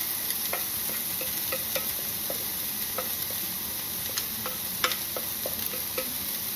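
Cauliflower rice fries in a very hot pan under a steady hiss of sizzling, broken by frequent light clicks and scrapes of stirring, heard close with no speech.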